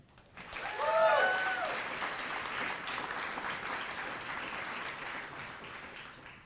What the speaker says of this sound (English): Let's give a round of applause to the graduates for completing this remarkable milestone and closing this chapter